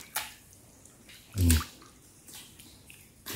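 Water drips and splashes inside a dark Japanese-era cave passage with stepped rock formations, a few scattered drops and one louder slosh echoing in the enclosed space.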